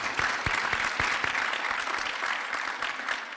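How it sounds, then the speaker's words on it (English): A mayor's press conference audience claps steadily and warmly for several seconds, dense applause close by with no voice over it. "Let's give them another round of applause."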